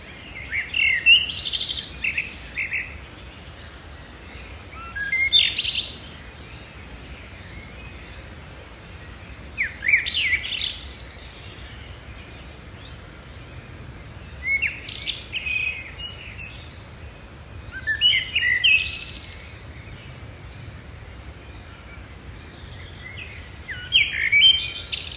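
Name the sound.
birds chirping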